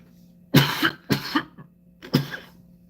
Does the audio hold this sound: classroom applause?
no